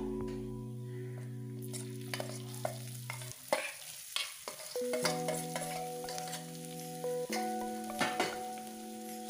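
Grated coconut stirred into a tempering of fried red chillies and asafoetida with the gas turned off, for Thanjavur thavala adai. A spoon scrapes and clinks in the pan over a soft sizzle, with steady electronic tones in the background.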